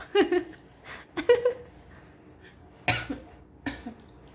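Several sharp, close coughs come in short bursts, separated by pauses and brief breaths.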